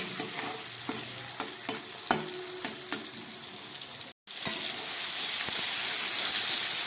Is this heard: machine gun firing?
no